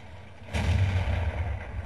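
A single heavy tank cannon blast in a video game, an IS-3 tank, booms out suddenly, followed by a rumbling low roar that lingers without fading much.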